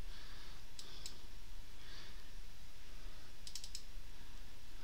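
A few sharp computer mouse clicks, closely spaced in two small bursts, sit over a steady low background hum in a quiet room.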